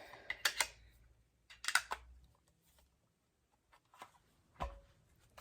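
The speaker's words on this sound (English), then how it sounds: "Now I'm gonna shuffle the Fairy Lenormand." Fairy Lenormand oracle cards are shuffled in short, crisp riffling bursts separated by quiet gaps, close and fairly soft.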